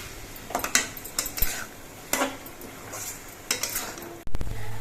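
A spoon stirring tomato chutney with dates, dried mango, cashews and raisins in a pan, giving a string of sharp scraping clinks against the metal over a faint sizzle, close and irregular with no talking.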